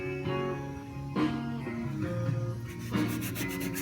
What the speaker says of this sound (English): Just scuff this, abrade the surface the epoxy primer was applied to.